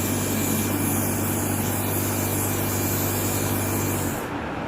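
A powder coating spray gun sprays into tight corners with its nozzle angled upward, a loud, steady rushing hiss close by that stops abruptly near the end, with no talking.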